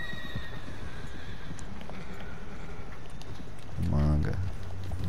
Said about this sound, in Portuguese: Esse cavalo é esse aqui.